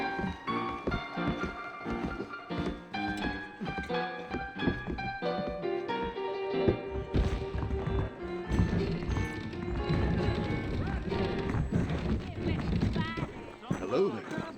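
Steady clip-clopping horse hooves trot along in Red Dead Redemption under background music, with people talking over the top.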